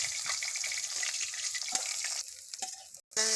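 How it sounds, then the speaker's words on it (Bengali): Pieces of rohu fish frying in oil in a wok, a close crackling sizzle that softens near the end and then breaks off before a brief louder burst. "তেল দিয়ে দেবো কড়াই মাছ ভাজার জন্য।"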